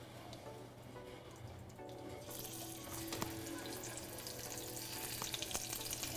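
Scallops frying in a pan give a steady, close sizzle that swells and brightens partway through, with faint clinks and kitchen noise underneath and no talking.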